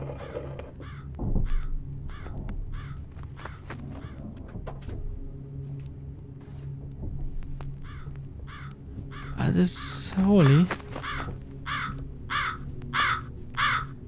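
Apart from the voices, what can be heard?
crow cawing in the video game Jisatsu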